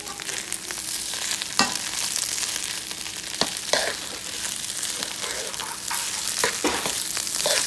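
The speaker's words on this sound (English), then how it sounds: "And we're going to continue to mix all this." Yellow-tinted rice seasoned with curry, turmeric, ginger and garlic being stirred and fried in a pan: a continuous sizzle broken by sharp scraping clicks of the utensil every second or so, fairly quiet and with no voices.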